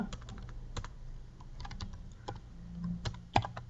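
Someone types on a computer keyboard, producing quick, irregular clicks of individual keystrokes close by, with a sharper tap near the end.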